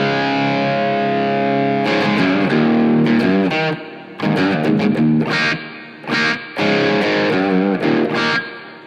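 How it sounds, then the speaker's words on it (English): An electric guitar plays through an Electro-Harmonix Cathedral reverb pedal on its Grail spring setting: loud, distorted chords and short riffs with washy tails that ring into the brief gaps. "we have it set on the Grail reverb spring"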